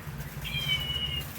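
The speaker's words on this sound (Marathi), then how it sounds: "ही वाली कॅट आहे, ती पण आवाज करते." A single electronic meow rings out from a toy cat in a gift shop, one drawn-out cry under a steady low hum.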